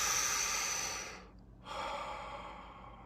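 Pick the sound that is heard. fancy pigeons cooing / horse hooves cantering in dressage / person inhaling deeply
person inhaling deeply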